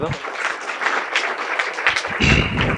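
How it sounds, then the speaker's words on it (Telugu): An audience applauds at a Telugu spiritual gathering on meditation and willpower, with a dense, steady wash of clapping running throughout and a voice speaking over it. "సార్ ఒకసారి గట్టి క్లాప్స్ కొడదాం"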